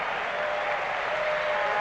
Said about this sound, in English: he's given a round of applause by the fans here at Maple Leaf Gardens